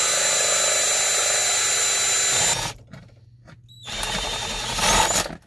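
A power drill with a roughly 1 1/8-inch hole saw, cutting into a VW T4 Eurovan, whines steadily and loudly, stops abruptly for about a second, then spins up again.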